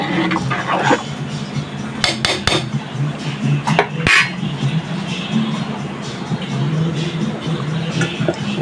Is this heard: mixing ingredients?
yes